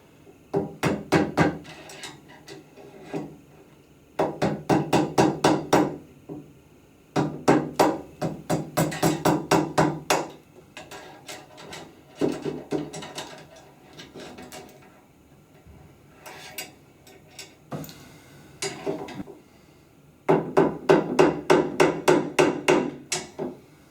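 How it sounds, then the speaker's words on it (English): A screwdriver taps the outer race of a bearing out of a multisport wheelchair wheel, making rapid bursts of close, sharp metallic strikes separated by short pauses, with no talk. "we're going to put the screwdriver in, and we're going to tap on the outside part of the bearing"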